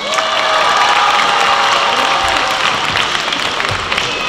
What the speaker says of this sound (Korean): 이렇게 크게 박수도 쳐주고, 예, 너무 좋습니다.